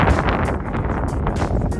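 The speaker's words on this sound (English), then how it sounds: "You can hear the wind in the video as well." Gusty wind buffets a microphone in low, rumbling bursts on an icefield in the Canadian Rockies, loud and close, with no voices.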